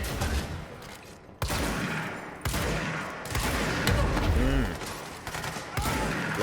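Gunfire in the action video game Control: a run of sharp, close shots in uneven bursts across a few seconds, with game sounds and a brief tonal effect in between.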